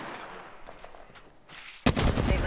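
Gunfire breaks out in an Apex Legends battle royale match: after a quieter stretch of game ambience, a sudden, dense burst of rapid shots fills the final moments, loud and close.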